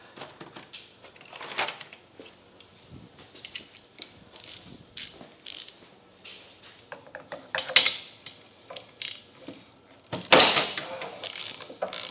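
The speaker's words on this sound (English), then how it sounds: "we'll go ahead and change this spark plug too. 3/4 socket for that." A ratchet fitted with a 3/4 socket works loose a spark plug in a series of quiet, crisp clicking bursts with short pauses between strokes, close up and without speech.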